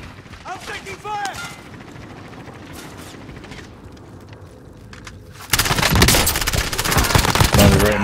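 Gunfire in Call of Duty: Modern Warfare, with scattered shots and mechanical clatter under a voice at first, then a sudden loud, sustained burst of rapid automatic fire and explosions that fills the rest of the clip.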